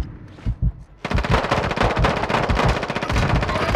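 Automatic gunfire from the video game Call of Duty: Modern Warfare II erupts after a brief quieter moment, a loud, sustained rapid burst of shots filling the rest of the clip.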